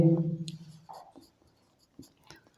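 Chalk or marker strokes on a classroom board during a physics lesson, a few short scratchy bursts with pauses between them, close and fairly quiet.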